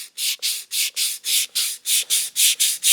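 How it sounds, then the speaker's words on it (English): A bicycle seat post rubbed with 400 grit sandpaper gives about a dozen steady back-and-forth strokes, each a bright, hissy rasp in an even rhythm, close and loud with no talking. "I'm going to sand the seat post a little bit and make it a little smoother"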